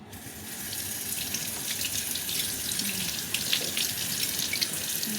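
A kitchen tap runs steadily in a sink while something is rinsed during cooking, a continuous close hiss and splash of flowing water with no voices.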